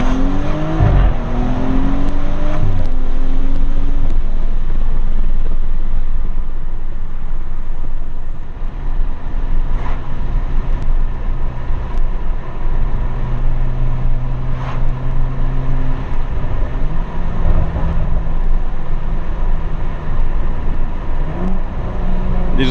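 A BMW M135i tuned with a JB4, decat and MPE exhaust pulls hard at full throttle from low speed, its loud exhaust note rising steadily in pitch through the gear, with a brief shift dip and continuous drone from inside the cabin.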